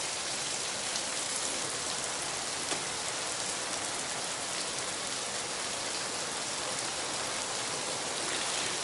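Steady, dense rain pours down throughout while a rider travels through a downpour, a continuous close hiss of drops striking surfaces with no pauses and no talking.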